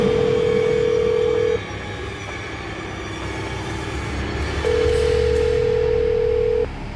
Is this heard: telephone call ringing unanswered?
yes